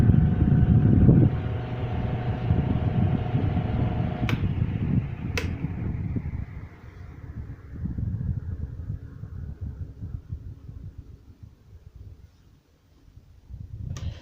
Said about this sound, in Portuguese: É um ventilador aí da década de 60, da marca Valita, fabricado pela Faet.